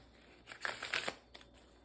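Small Rider-Waite tarot cards being shuffled by hand, a quiet riffle of two or three soft papery bursts close by, with no talking.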